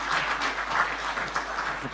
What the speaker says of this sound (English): A round of applause as he comes to stage.